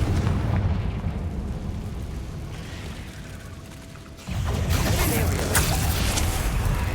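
A Confringo explosion spell in the video game Hogwarts Legacy: a sustained, loud rumbling roar that dips briefly, then surges back with a fresh burst of crackling blast noise, with a faint voice underneath.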